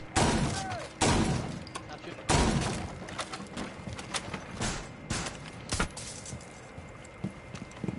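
A nitro cell detonating beneath a window in a first-person tactical shooter game: several sharp, loud blasts with shattering debris, one right at the start and more near one and two seconds in, followed by scattered smaller cracks and thuds.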